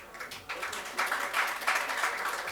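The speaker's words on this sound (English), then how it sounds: "A round of applause, please." Listeners at an art forum session applaud in a moderate, fairly quiet wave of hand claps that swells in several surges over a few seconds, heard from a slight distance in a hall.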